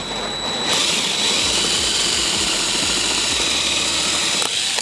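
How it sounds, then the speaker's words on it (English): A power drill runs continuously at high speed while drilling out rivets. The whine is loud and close and holds for several seconds before it cuts off abruptly. "I'm gonna drill the rivets out."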